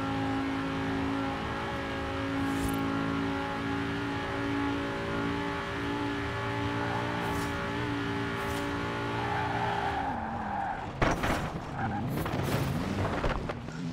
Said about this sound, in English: I have to use the handbrake a lot more now, just so that I can have more oversteer.